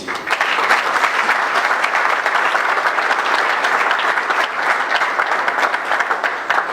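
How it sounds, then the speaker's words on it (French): A large audience gives loud, dense, sustained applause to welcome a speaker at a talk on the Congo–Rwanda conflict, with an even wall of clapping from start to finish. "sous vos applaudissements"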